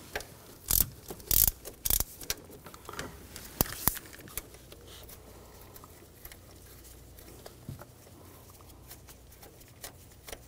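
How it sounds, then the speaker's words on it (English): Ratchet wrench with a 13 mm socket loosening bracket nuts on a 2013-2019 Ford Escape 2.0L, a few loud bursts of ratcheting clicks early on, then quieter intermittent mechanical clicks and handling noise close by, with no talking. "Using a 13 millimeter socket, we're gonna take these nuts off this bracket here."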